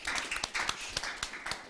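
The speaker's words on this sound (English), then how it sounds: "So Ansis, also a round of applause to you" A conference audience at a security forum applauds with dense, steady clapping and sharper individual claps standing out, moderately loud and close for under two seconds.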